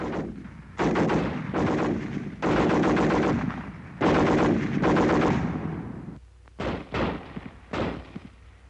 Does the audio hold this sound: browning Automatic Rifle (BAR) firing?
yes